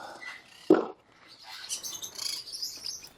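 Green-rumped parrots in an outdoor aviary give a sharp, close chirp, followed by softer, higher twittering calls that continue faintly in the background.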